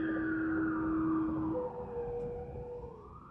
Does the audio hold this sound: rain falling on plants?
no